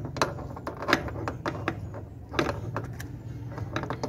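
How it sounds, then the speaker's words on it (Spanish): Nut being loosened on the leaking refrigerant valve fitting of a Samsung air conditioner, a close run of rapid metallic clicks and ratcheting taps with no talking. "Vamos a soltar esta tuerca."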